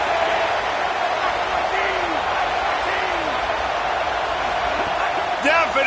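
A packed football stadium crowd roars in a steady, loud wall of cheering as fans try to keep the opposing team pinned deep, with a commentator's voice over the top and a few whistles near the end.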